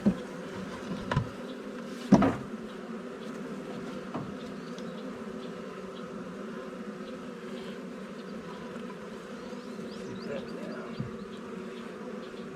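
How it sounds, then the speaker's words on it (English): A honey bee swarm buzzes steadily around a hive box outdoors, a dense close hum broken by a couple of sharp knocks early on. "There are quite a few bees."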